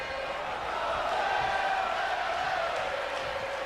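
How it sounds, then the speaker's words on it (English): Steady arena crowd noise in a WWE 2K wrestling match as Sami Zayn faces Apollo Crews, a continuous broad roar at moderate level with no clear peaks throughout. "You can just hear the crowd on the side of Sami Zayn here"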